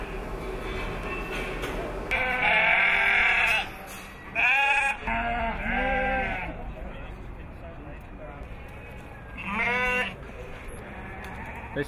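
Dorset Horn sheep, including a horned ram, bleat repeatedly at a breeders' sale in Exeter; several loud, drawn-out bleats come close by over a steady background murmur of the sale.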